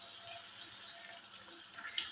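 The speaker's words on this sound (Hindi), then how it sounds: "थोड़ा सा हम इसमें पानी शामिल कर लेते हैं ताकि जो टमाटर वगैरह है सारा मसाला अच्छी तरह से गल जाए" Water running steadily into a pan of chana pulao masala with tomatoes and spices, a continuous soft hiss and splash close by with no talk.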